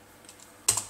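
Typing on a computer keyboard while entering a Linksys wireless router address in a browser, a few faint soft taps followed by one louder close keystroke near the end, with no talk.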